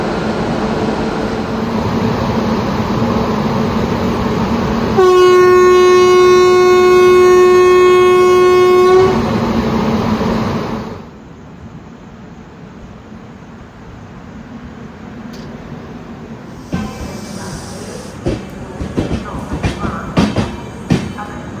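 The Rajdhani Express rumbles past loudly and close, its horn sounding one long steady blast partway through, then the roar drops to a lower rolling rumble with rattling clatter near the end.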